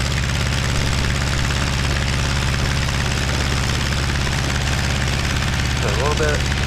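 Aeronca 7AC Champ light airplane engine drones steadily and loudly throughout during takeoff practice, a dense continuous roar with no letup.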